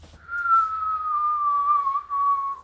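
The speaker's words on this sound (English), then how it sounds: "He's just like whistling." A single steady whistled tone from an anime character, held for about two seconds with a slight break near the end, clear and close with no talk.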